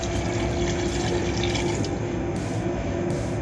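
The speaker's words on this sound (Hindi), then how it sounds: "यहाँ पर जो हमारे बर्तन में मसाला रह गया था उसमें हमने थोड़ा सा पानी डाला है" Water is poured steadily into a cooking pot holding leftover biryani masala, a continuous close splashing and filling sound with no speech.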